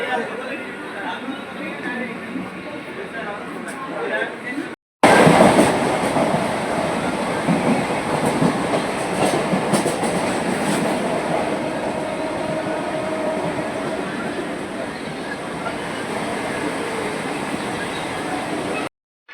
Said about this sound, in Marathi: सात पाचची लोकल आलेली आहे तर जाऊ आपण विरारला